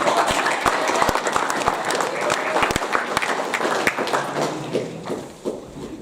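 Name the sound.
audience applause at school assembly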